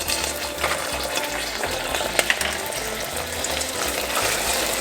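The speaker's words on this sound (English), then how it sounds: "We're going to stir it up here." Sugar syrup for candied strawberries being stirred in a pot, a steady scraping and rattling with faint sizzle, close and continuous with a couple of sharper clicks midway.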